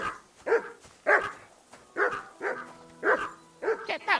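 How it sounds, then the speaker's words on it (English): A dog barks repeatedly in the video game Kingdom Come II, sharp close barks in uneven bursts of one to three with short gaps between, alone without talk. "Get that mutt of yours to stop barking, will you?"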